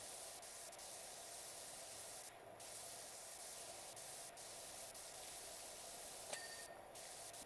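Steady pressure washer spray in the PowerWash Simulator video game, a continuous hiss of water jet held at a faint, even level, with brief pauses and a small click.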